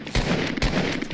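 Gunfire in Fortnite Battle Royale, two sharp, loud shots about half a second apart, each with a short booming tail, heard up close with no talk.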